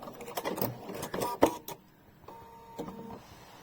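A sewing machine stitching a satin stitch runs in quick mechanical bursts of whirring and clatter, stopping and starting, close up with short pauses between runs.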